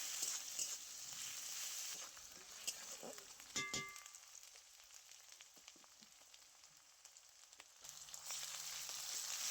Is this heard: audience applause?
no